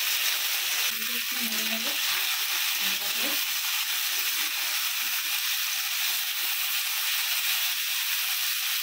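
Five-spice seeds, cumin and green chilli frying in hot mustard oil, giving a steady loud sizzle and hiss throughout, with a low voice briefly heard early on.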